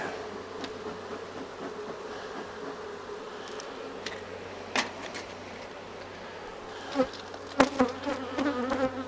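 Honey bees buzz steadily around a hive during a summer hive check, a close, continuous insect drone with a few sharp knocks and clatters near the end.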